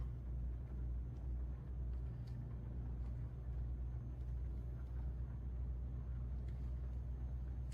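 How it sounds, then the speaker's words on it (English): A heavy truck hauling a full load of paving stones, about 20 tons, rolls through city streets in the rain, giving a steady low engine rumble and road drone heard from inside the cab with no talk. "the engine is a bit more lively"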